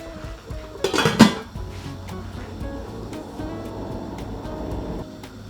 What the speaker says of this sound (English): And make sure you get the lid back on as well.